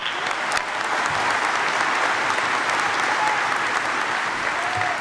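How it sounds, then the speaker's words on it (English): A high school graduation ceremony audience applauds: dense, steady clapping from a large crowd, sustained at an even level throughout. "Let's give them one more round of applause."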